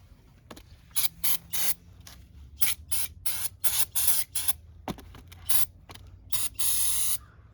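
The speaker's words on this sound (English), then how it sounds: "I'm also gonna spray it with brake cleaner real quick." Repeated short bursts of aerosol brake cleaner spraying onto the front brakes of a 2012 BMW 128i, close and fairly loud, with brief pauses between them and one longer spray near the end.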